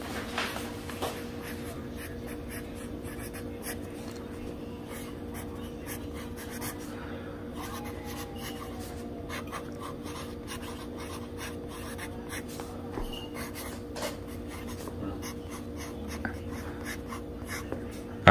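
Pen or pencil scratching steadily on paper as text is handwritten onto a hand-drawn map of Washington D.C., with short repeated strokes and a soft room hum underneath, no talking.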